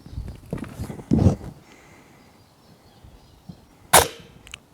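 Custom gel blaster firing Ultra Elite gel balls on semi-auto, a few sharp snapping pops spaced apart with mechanical clicks, close and fairly loud against a quiet background.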